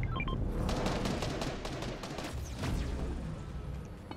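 Rapid bursts of video game gunfire crackle loudly and continuously in a multiplayer shooter match, dense and close with no speech.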